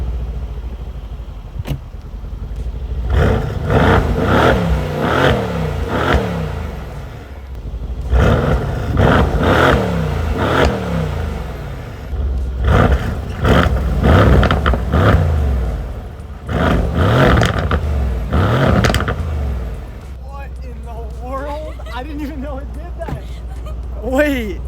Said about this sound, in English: I'm gonna switch it from comfort to Sport Plus and give it a few revs to see whether the exhaust sounds any different in any of the modes.